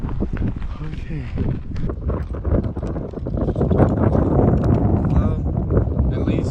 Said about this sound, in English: the wind is starting to pick up